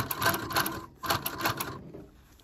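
A post-bed sewing machine runs a second row of stitches through a bulky leather jacket, giving two close bursts of rapid, rattling mechanical stitching separated by a short pause, then trailing off quieter.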